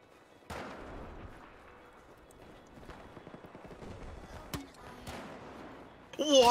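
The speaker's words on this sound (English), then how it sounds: "But this is the grenade launcher." A grenade launcher fires in Battlefield 4 with a few sharp, punchy blasts spread across the moment, set among quieter battlefield clatter and rumble, with a louder burst at the end.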